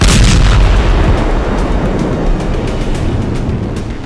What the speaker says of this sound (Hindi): और फिर कुछ सेकंड के बाद हुआ दूसरा धमाका।